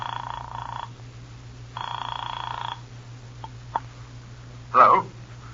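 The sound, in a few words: telephone ringing in old time radio show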